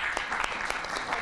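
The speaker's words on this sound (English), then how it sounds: "Can we give them a round of applause," Audience applause at a lecture event, a steady wash of many hands clapping with scattered sharper claps, continuous across the moment.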